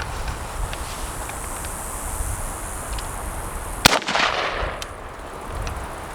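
A single sharp rifle shot fired through an ACOG scope cracks out once partway through, loud and close, with a short decaying tail against a quiet outdoor background.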